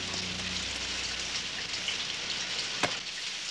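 Heavy rain pours in a continuous, even hiss with no break, and a single sharp knock sounds near the end.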